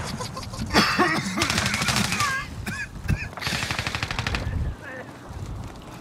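Video game gunfire comes in rapid automatic bursts, dense rattling strings of shots with short gaps between them, loud and close, mixed with other clipped game effects.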